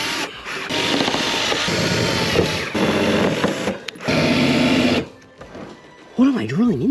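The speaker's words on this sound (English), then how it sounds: "What am I drilling into right now?" Drill boring into a Mazda Miata's body, loud rapid buzzing bursts in several spurts with short pauses, close up; a voice speaks near the end.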